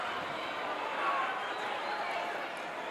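Wrestling arena crowd roaring for Big Jim Duggan during a tag-team match, a dense, steady wash of distant crowd noise with a commentator talking over it.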